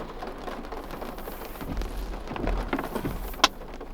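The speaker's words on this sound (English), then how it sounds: "There's a rainstorm happening around me" An outdoor rainstorm falls steadily around the listener, a dense hiss of rain on surfaces with occasional nearby drips and a sharp tap near the end, with no voices.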